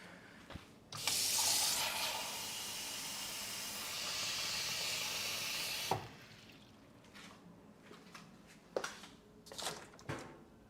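Water pours to fill a container in the video game Firewatch, giving a steady rushing hiss for several seconds that then stops, followed by faint clinks and handling noises.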